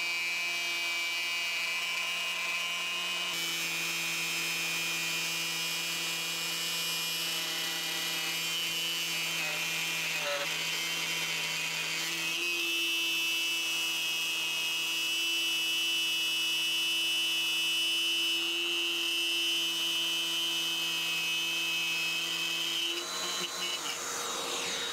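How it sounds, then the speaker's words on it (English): A Bosch 12-volt router cuts along a line in a clamped board for a fake neon sign, with a shop vacuum held close; a steady, loud motor whine and vacuum roar run continuously, shifting pitch slightly as the cut proceeds. "So I got the board clamped down, plunged down the router and started to follow my line."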